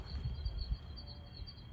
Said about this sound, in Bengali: ঝিঝি পোকা, জোনাকি, সন্ধ্যা হলে যা হয়।